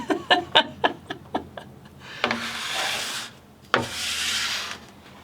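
Wax scraped off a ski base: a run of quick rhythmic scraping strokes at first, then two long, loud rasping pulls of the scraper along the base, close up.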